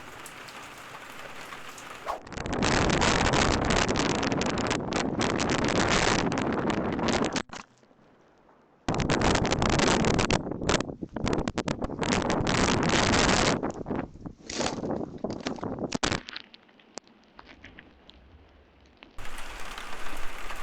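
Heavy rain pounds down with gusts of wind buffeting the microphone in a small abandoned village in Portugal, dropping out briefly to near silence before the roaring downpour resumes.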